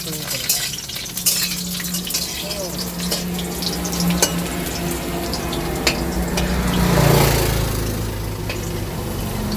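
Potatoes fry in hot oil in a wok, giving a loud, steady sizzle with scraping stir sounds that swell briefly near the end.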